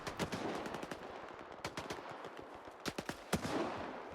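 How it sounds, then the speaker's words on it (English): Rapid bursts of video game gunfire in S.T.A.L.K.E.R. 2: Heart of Chornobyl crack repeatedly over a dense, noisy background, with a few louder shots standing out toward the end. "avoid the gunfire"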